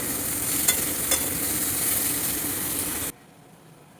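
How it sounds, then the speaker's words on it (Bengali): Pasta stir-fried in a pan with onion and tomato gives a steady close sizzle with a couple of stirring knocks, then cuts off abruptly after about three seconds. "এবার এই যে পাস্তাগুলো দিয়ে দিই। ভাজবেন বা এরকম কিছু ব্যাপার হবে, এরকম করে নাড়তে হয়।"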